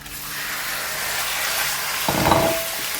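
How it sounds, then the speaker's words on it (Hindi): Beef bong frying in hot oil in a home kitchen, a steady loud sizzle and hiss that swells and crackles harder as more goes into the pan near the end. "अब हम इसमें बोंग को ऐड करेंगे और इसको अच्छा सा फ्राई करेंगे।"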